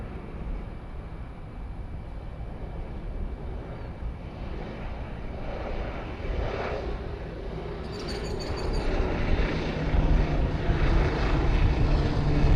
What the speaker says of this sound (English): we have some air cargo flights also leaving